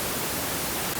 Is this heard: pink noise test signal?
yes